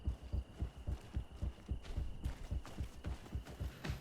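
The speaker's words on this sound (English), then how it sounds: "I can do without this heartbeat." A heartbeat effect in the action RPG Greedfall pulses steadily in deep, thudding double beats at a fairly quick pace, with a faint high hum behind it and no speech.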